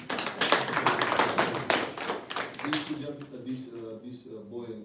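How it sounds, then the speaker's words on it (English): An audience at a Chuka University event claps in a dense, steady burst of applause for about three seconds. A speaking voice then takes over as the clapping fades. "Please, you should give a big round of applause."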